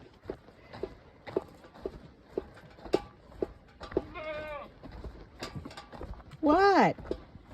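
Goats bleating near dusk at milking time on a farm, including one named Esmeralda, with loud wavering cries standing out over footsteps and small knocks, while a person talks softly.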